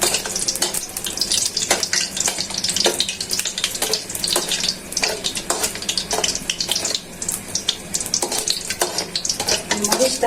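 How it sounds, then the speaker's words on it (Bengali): Dried red chillies fry in hot oil in a kitchen pan: a continuous bright sizzle with repeated scraping stirs, close and steady, with no one speaking. "শুকনা মরিচটা আগে ভাজা নিতেছি"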